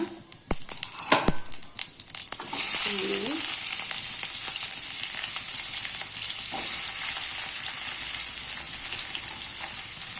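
Mustard seeds, cumin and carrot frying in oil in a pan on a stove, opening with a few sharp clatters and knocks before a loud, steady sizzle that carries on to the end, close by, with no voices.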